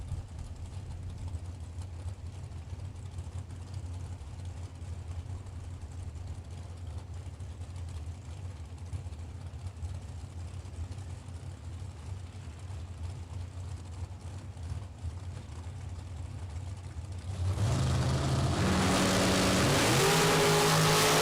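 Drag racing cars at a Super Pro bracket event: a steady low engine drone for most of the span, then a sudden loud roaring launch with rising revs near the end, no talk.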